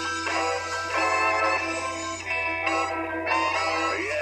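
Brassy burlesque band music plays continuously with bright, sustained horn-like chords, loud and steady and free of any talk.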